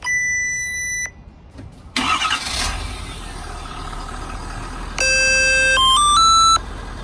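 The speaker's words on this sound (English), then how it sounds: "I'm gonna go ahead and remote start it. I'll crank right up." A Ford truck with a hydraulic bed lift cover is remote-started: chirping electronic beeps, then a loud engine crank that catches and settles into a steady idle, with another run of stepped beeps near the end.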